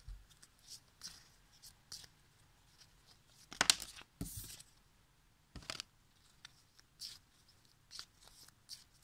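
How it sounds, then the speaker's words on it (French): Cards are shuffled and drawn from an omen card deck in a quiet room, heard as soft, scattered rustles and sharp flicks and slides at close range, with one brief louder burst of card noise partway through. "moi je vais tirer la carte présage"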